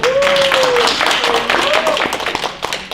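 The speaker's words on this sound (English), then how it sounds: "Give her a round of applause" An audience claps for a presenter at a group learning-day session; dense, steady clapping fills the room while a voice calls out a rising, drawn-out whoop over it.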